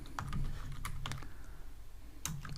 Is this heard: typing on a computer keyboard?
yes